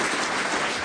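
Studio audience applause on a 1977 Call My Bluff television panel game, a steady, dense wash of clapping held at even loudness for under a second, with no voices over it.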